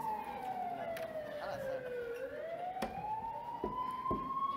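An ambulance siren wails outdoors at night during a campus event, its pitch sliding down and then rising in a long sweep, fairly close and loud, with some low background noise.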